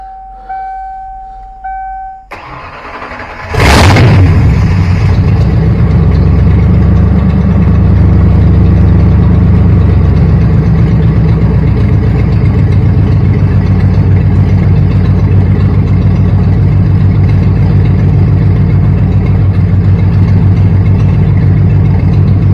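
A newly installed car engine, running with its fuel pump jumpered, cranks after a few quiet beeps, fires up loudly and settles into a steady, deep idle that continues for the rest of the clip.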